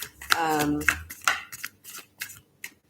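Crisp bursts of tarot cards being shuffled and riffled, several quick rustling snaps, with a person talking briefly at the start.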